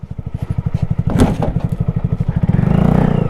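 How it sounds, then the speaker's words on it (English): A small Kawasaki Z125 motorcycle engine chugs in a rapid, pulsing idle, with a brief thump and clatter as the bike runs into a pickup truck, then the engine keeps pulsing close by. "I hit my truck."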